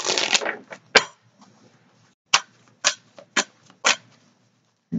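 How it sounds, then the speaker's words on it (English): A deck of cards shuffled by hand, a long riffle burst at the start followed by several short separate snaps and riffles, close and crisp with quiet gaps between. "Just a couple more shuffles here and then."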